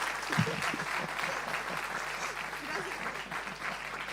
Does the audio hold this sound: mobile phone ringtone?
no